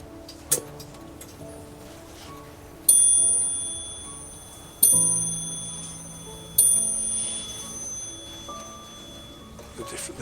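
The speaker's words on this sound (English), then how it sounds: "Does it chime? It does. I'm just going to... I'll strike it for you." A restored clock chimes when struck, three loud metallic strikes about two seconds apart, each ringing on and fading slowly, with a few fainter clicks from the movement.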